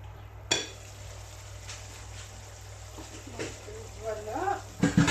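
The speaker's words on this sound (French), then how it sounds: "Donc je mélange un petit coup." Eggplant being stirred into tomato sauce in a pan for zaalouk, with soft scraping and gentle sizzling under a steady background hum, and a few louder utensil scrapes near the end.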